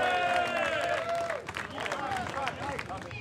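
Audience clapping and cheering for a prize winner at a Harley-Davidson euro festival in Port Grimaud, a busy crowd patter of many hands under an amplified announcer voice that fades as the applause carries on.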